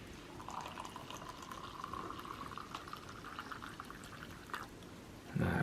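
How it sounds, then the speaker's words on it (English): Hot water poured steadily into a cup to make coffee from a 2019 Canadian IMP ration menu, a continuous soft gurgling pour lasting several seconds at close range, ending in a brief louder rustle. "So we'll go about halfway on the cup here with our hot water."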